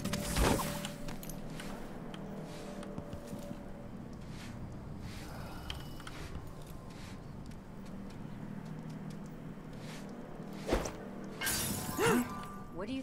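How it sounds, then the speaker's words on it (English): Glass shatters in the Dishonored 2 game in a bright crash early on, with a second breaking burst near the end and quiet ambient clatter between them. "It sounded like broken glass."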